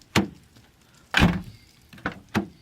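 Nissan 350Z door handled during a door-handle replacement: four separate thunks and clunks, one heavier slam-like bang in the middle, close and sharp with quiet gaps between, no talking.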